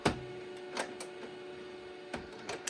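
An HP LaserJet Pro CM1415fnw color multifunction printer restarting after a factory reset, giving a few soft mechanical clicks and thumps over a steady low hum.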